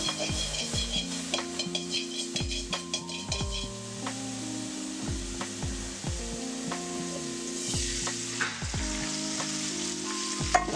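Pointed gourd (potol) sizzling in hot oil in a pan, a steady close fry with repeated wooden scraping and turning strokes and a few clinks of the utensil against the pan.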